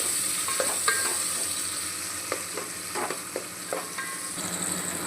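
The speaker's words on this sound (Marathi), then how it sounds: "आता टोमॅटो घालतो. चांगलं एकजीव करूया." Tomato is stirred into sizzling fried onions for a vegetable pulao, a constant crackling hiss with irregular spatula scrapes and taps against the pan, close by and with no talking.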